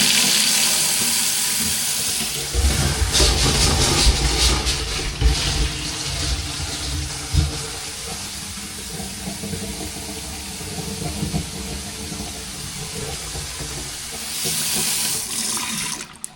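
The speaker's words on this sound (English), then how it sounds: "We'll just give the tap a quick test." Water gushes from a newly plumbed hot and cold tap into a sink beside a relocated washing machine, a loud steady rushing stream that shifts in tone partway and continues for many seconds.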